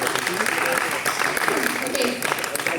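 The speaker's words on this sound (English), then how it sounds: "Let's give you a round of applause" A round of applause for a participant at a staff appreciation event, steady crowd clapping throughout at moderate loudness, with some chatter mixed in.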